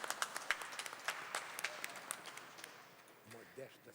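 A plenary session audience gives a short round of applause that thins out after a few seconds, and a speaking voice comes in as the clapping fades.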